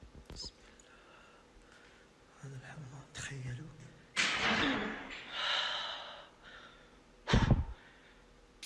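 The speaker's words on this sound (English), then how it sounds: "This guy's got the Blair Witch Project breathing down pat." Heavy, frightened breathing during an Arabic ghost hunt: loud gasps, sighs and harsh breaths up close, with a sharp burst near the end, mixed with bits of voice.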